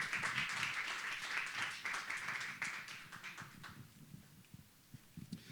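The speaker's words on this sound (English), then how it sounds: "So a round of applause for Kendrick as he comes." Audience applause fills a keynote hall at an innovation celebration as a speaker takes the stage, a dense, steady wash of clapping that gradually thins toward the end, with scattered individual claps standing out.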